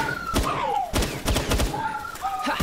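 In the Palworld video game, gunfire comes as a few loud, sharp bursts of shots separated by brief gaps, mixed with game sound effects and tonal chirps, with some talk underneath.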